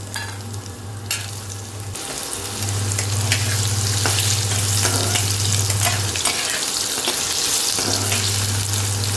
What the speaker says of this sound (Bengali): ফোড়নটা ভাজা ভাজা হয়ে গেছে, এরপরে আমি আলুটা ছেড়ে দিলাম।